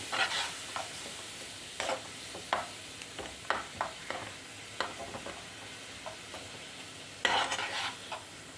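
Grated carrots being stirred into a pan of sugar syrup for carrot cake, a scraping, lightly sizzling stir with intermittent spoon taps and brief bursts, close and moderately quiet, no talk.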